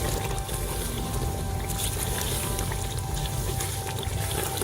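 Half a glass of water poured into simmering chicken korma in a pot, a steady hissing, splashing wash that runs unbroken and close for the whole stretch, with no talking.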